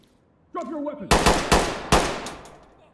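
Gunfire from the tactical shooter game Ready or Not: four loud, sharp shots in quick succession, each with a short decaying tail, following a brief shouted voice.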